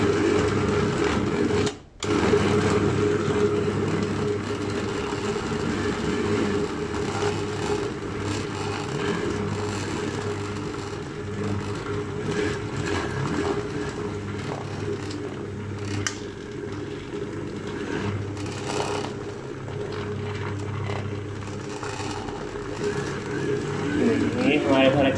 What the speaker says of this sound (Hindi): हमारे भरा कीमा जो है चॉपराइज हो रहा है।